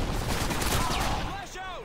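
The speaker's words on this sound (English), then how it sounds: "I heard one stinger shot go off." Dense burst of gunfire and explosive launcher fire in a Call of Duty Modern Warfare 2 multiplayer match, loud and continuous, with a sweeping whistle-like tone near the end.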